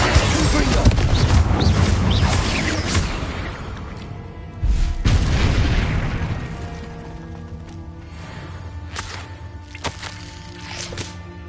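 Confringo blasting curse explosions in a Harry Potter-style video game sound off in heavy booming crashes, one big blast mid-way, under a layered game soundtrack with occasional spoken lines.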